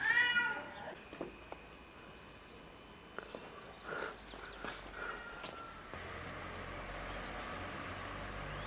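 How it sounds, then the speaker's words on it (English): A cat in heat meows a few times at a distance, faint and intermittent, over quiet street ambience in Fez, Morocco, with a soft rise of traffic noise toward the end. "we got this cat that makes noise the whole night"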